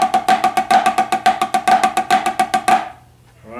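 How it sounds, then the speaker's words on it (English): Snare drum played in a steady run of flam accents followed by a right flam paradiddle, crisp close strokes with grace notes in an even rhythm, ending with a brief ringing decay. "the first measure is simply 2 flam accents followed by a right flam paradiddle."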